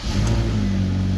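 A 2010 Ford Fusion engine catching and settling into a steady idle, a close, loud, low rumble with an early rev that evens out, and no talking.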